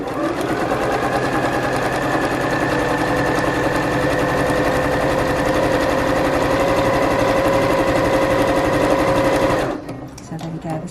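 A sewing machine stitches tape onto jubilee bunting in a steady, loud, close mechanical whir with a fast needle rhythm that runs unbroken for nearly ten seconds before cutting out.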